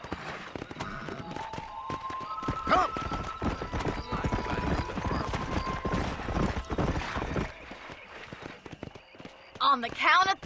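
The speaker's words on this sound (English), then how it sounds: "este caballo me lleva por donde menos quiero yo" Horse hooves clip-clopping while riding in Red Dead Redemption on Xbox Series, a rapid rhythmic beat under a talking voice and game dialogue, with a brief whinny near the end.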